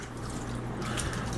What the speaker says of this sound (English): So you just pour the entire bottle.